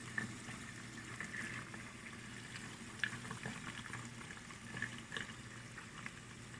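Clarified butter ghee bubbles in a pan after a sprinkle of water, giving a quiet, constant fizzing crackle with scattered tiny pops, heard close up without talk.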